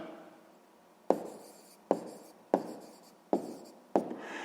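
A pen writes answers onto paper during a sixth-grade maths exercise, giving five sharp, evenly spaced strokes, each a crisp scratch that tails off quickly, close and fairly quiet with no talk.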